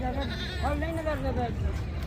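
At a livestock market, a goat gives a quavering bleat that rises and falls over about a second, set against crowd murmur and voices.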